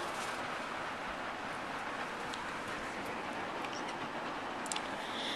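Steady heavy rain hisses continuously outside, a dense wash of noise with no distinct thunderclaps.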